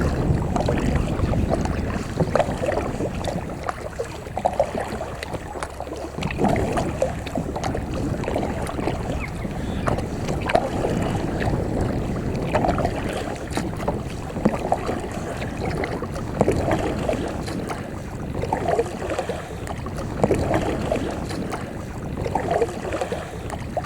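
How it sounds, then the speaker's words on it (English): A small Dawncraft Dandy cruiser passes on a canal, its engine a steady low rumble and water wash running continuously for the whole stretch, with some wind buffeting the microphone. "Got a little Dawn-craft dandy coming up on the starboard side."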